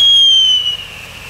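A consumer firework launching with a loud, high whistling shriek that holds steady and then fades within about a second, heard close by.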